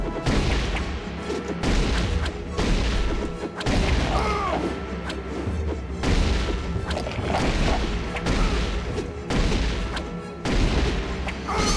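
Plasma rifle fire in Turok 2: Seeds of Evil during a boss battle, loud repeated crashing bursts in a steady run across the whole stretch, each shot thudding heavily over dense game noise.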